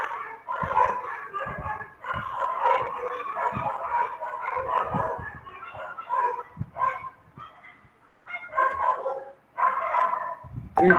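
A pack of dogs barks, yips and howls almost without a break, close and loud, the chorus thinning briefly near the end before surging again.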